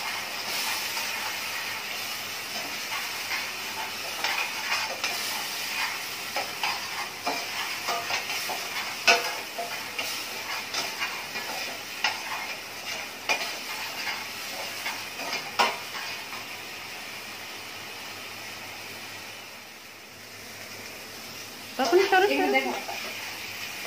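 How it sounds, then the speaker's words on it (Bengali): Onion, ginger and garlic fry and are stirred in an oily pan for a chicken roast, producing a steady sizzling hiss with repeated spatula scrapes and clinks, a short louder burst near the end, and faint talk underneath. "এটা আদা পেঁয়াজ রসুনটা ভালো করে কষাবো"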